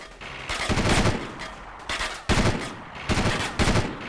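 Gunfire in the video game Delta Force 2: loud, close bursts of automatic rifle fire in several rapid volleys separated by short pauses, with no talk.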